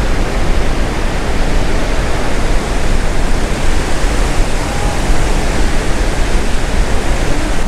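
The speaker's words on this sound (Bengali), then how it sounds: "জল একদম এত উঠে আসছে, ভিজিয়ে দেবে" Water rushes and sprays at Maithon Dam in a loud, steady, broadband roar that stays constant throughout, close by and with no voices over it.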